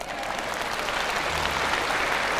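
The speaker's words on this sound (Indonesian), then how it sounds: "Mana tepuk tangan?" Dense, steady audience applause fills a religious lecture hall, a broad wash of clapping from many hands held at an even, sustained level throughout.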